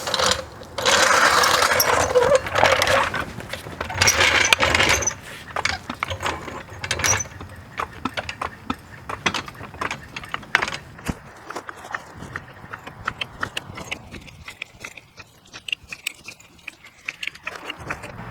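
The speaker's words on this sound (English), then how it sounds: "so we're going to jack it up right there." Car jack raising a car at the pinch weld, starting with a loud burst of scraping then a long run of close ratcheting clicks and creaks that gradually thin out, with no talking.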